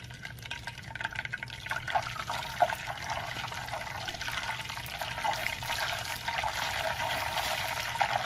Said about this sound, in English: After the butter gets nice and brown like this, we're gonna put some ice cubes into it to add back the moisture